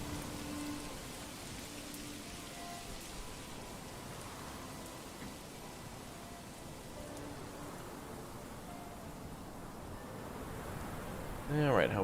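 Rain falls steadily in the medieval city-building game Manor Lords, a soft, continuous hiss of drops that holds at a constant level throughout, with a brief louder burst near the end.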